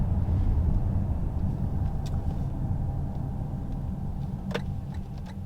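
A Toyota Mirai driving onto a highway on-ramp, a steady low road rumble and tyre drone from inside the cabin, fairly loud and continuous with faint ticks.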